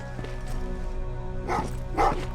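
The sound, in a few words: dogs barking in the video game Terminator: Resistance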